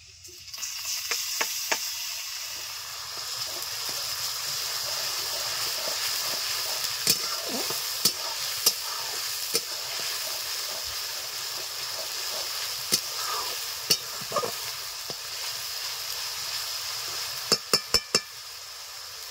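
Onion with tomato and ginger-garlic paste sizzles steadily in a pan, a continuous frying hiss broken by sharp clinks of a utensil against the pot, several in a quick cluster near the end.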